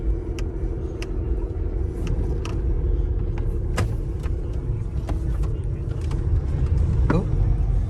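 A car with a brand new clutch drives along, giving a steady low road rumble and engine drone with faint interior clicks and rattles throughout.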